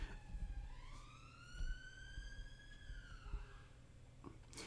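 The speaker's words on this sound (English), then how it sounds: "so if you hear ambulance noises, that's why" An ambulance siren wailing outdoors, heard from inside a house through open windows: a single rising and falling tone, distant and faint beneath low room noise, with no talking.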